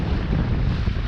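Steady wind buffets the microphone on the coast of the Algarve near Olhão and Faro in Portugal. It is a low, continuous rumble with no voices.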